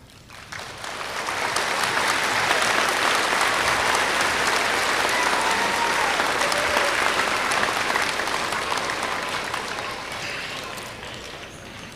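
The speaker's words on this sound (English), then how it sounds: "That applause was for you guys, okay, not me." Sustained applause from a large crowd at a school Veterans Day assembly, swelling quickly, holding steady for several seconds, then slowly tapering off.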